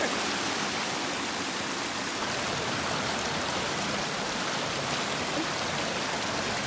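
Water stream rushing in Bouquet Canyon, a loud, constant broadband hiss and splash of flowing water heard close up, steady throughout without voices.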